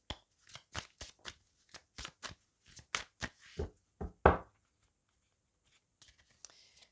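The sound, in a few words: shuffling and drawing oracle cards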